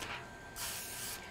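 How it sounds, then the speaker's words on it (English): Cooking spray hisses from an aerosol can onto cake pans in a kitchen while a green velvet cake is prepared, in two close bursts, a short one and then a longer, louder one after a brief pause. "We're gonna spray our pans."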